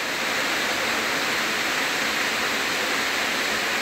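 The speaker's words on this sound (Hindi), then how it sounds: "ये जो झरना बन रहा है" The Ailmara waterfall roars steadily, with water pouring down in a dense, even hiss that sounds close and fairly loud and stays constant the whole time, with no voices over it.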